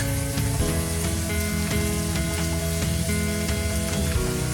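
Green onions and minced garlic sizzle steadily in a hot pan for soul smothered chicken, a continuous frying hiss heard beneath loud tonal background music.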